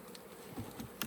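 Honeybees buzzing around an open hive during an inspection at a mobile apiary moved for acacia bloom, a soft, steady drone with a few louder passes of bees close by.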